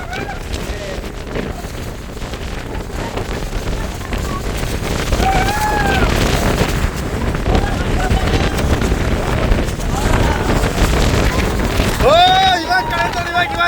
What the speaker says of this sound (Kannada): ಹೆವಿ ಗಾಳಿ